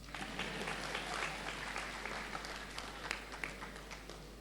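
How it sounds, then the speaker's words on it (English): Crowd applause at a university congregation ceremony, a broad continuous wash of clapping from a large audience heard at a distance over a low steady hum, with no voices. "Oh, you won't clap for us."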